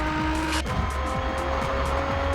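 Racing car engine in the Assoluto Racing video game, held high and steady while accelerating in sixth gear, a loud continuous drone with a brief upward shift near the start and no talk.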